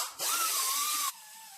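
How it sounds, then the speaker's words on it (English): An angle grinder fitted with a cutting disc bites into a rear axle from an AE86 rear end, giving a loud, steady high-pitched whine with a slight falling pitch for about a second before easing to a lower spin-down. "let's try the angle cutter. It's an angle grinder with a cutting disc."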